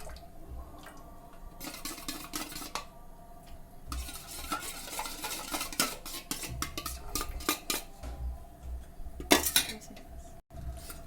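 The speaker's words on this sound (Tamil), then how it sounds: "அதில் இந்த சைனா கிராஸை வந்து மிக்ஸ் பண்ணிக்கணும்" China grass is mixed into warm milk in a pot with a spoon, giving repeated close scraping and clinking strokes against the metal over a faint background simmer.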